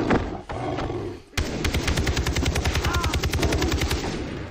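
Rapid automatic gunfire in the video game Far Cry 3 rattles loudly in a dense, continuous burst, with a brief break near the start before the rapid shots resume steadily to the end.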